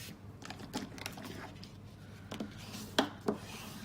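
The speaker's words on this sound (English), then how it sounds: "let's just fold and burnish on that score line" Half an A4 sheet of scored cardstock for a handmade card is folded and burnished along its score line, giving soft rubbing and sliding sounds, faint and close, ending in two sharper creasing swipes.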